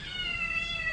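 A cat meows as a radio drama sound effect, one drawn-out, wavering cry heard at moderate volume against a faint low background.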